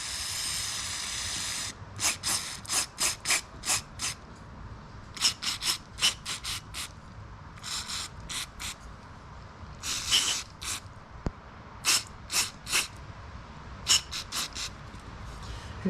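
Repeated short hissing bursts of cleaner sprayed from a pump bottle during maintenance on a 2006 Nissan Sentra, each spritz crisp and close, coming in quick irregular clusters against a faint background hum.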